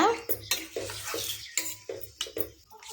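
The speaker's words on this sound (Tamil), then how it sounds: "நல்லா கிளறி விடுங்க." Bitter gourd curry stirred in a pan with tamarind water, a spoon scraping and clinking against the metal in repeated close strokes over a soft simmer, with no talk.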